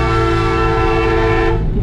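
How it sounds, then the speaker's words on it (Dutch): A Robin Reliant's horn blares in one loud, sustained toot lasting over a second, heard close from inside the car with engine rumble beneath it. "Ik ga ze even toeteren."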